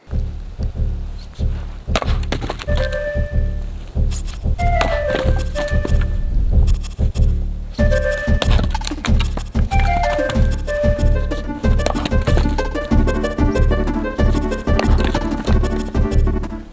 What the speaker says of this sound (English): got a new splitting maul delivered today, 8 pounds instead of 16